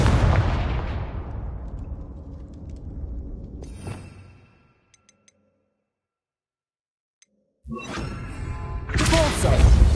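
Blasting Confringo spell explosions in Hogwarts Legacy boom loudly and decay into a long rumbling tail, then silence with faint ticks, before another heavy burst of blasts and crackling debris erupts near the end.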